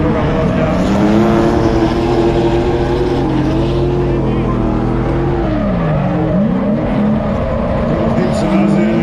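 A drift car's engine howls with rising and falling revs through a run at the Croatian Drift Challenge round at Mičevec, loud and continuous, with a commentator talking over it throughout.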